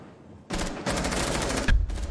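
Bursts of automatic gunfire in the tactical shooter Rainbow Six Siege, three loud close volleys separated by brief gaps, with no talking.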